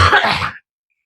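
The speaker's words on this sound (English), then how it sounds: "I'm going to cough." A single short, harsh cough close to the mic, ending abruptly in silence.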